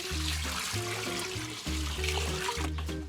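Fresh spring water is poured onto drained malted barley grain in a pot while sparging a single malt whiskey mash, making a steady continuous splashing trickle over a low, even hum.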